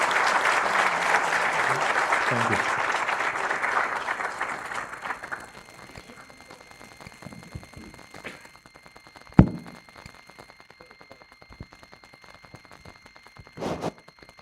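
Audience applause at a maritime stakeholders' event on seafarer welfare, a dense, loud burst of clapping that fills the hall for about five seconds and then fades, followed by quiet room sound, a short spoken thanks and a couple of thumps.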